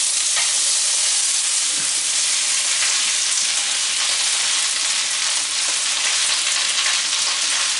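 Onions frying in a hot, smoking pan give a steady, loud sizzle that holds broadband and unbroken throughout, with faint stirring movement underneath.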